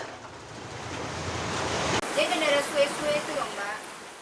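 Large ocean waves roll and crash onto a residential shoreline in a continuous loud, roaring wash, with wind buffeting the microphone and a brief cut partway through.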